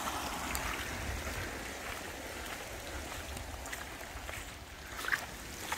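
Floodwater rushing through a village drainage ditch, a steady broadband wash of flowing water that holds level throughout, with no voices.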